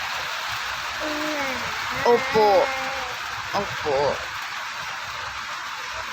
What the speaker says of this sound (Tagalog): Sobrang lakas kasi ng ulan eh.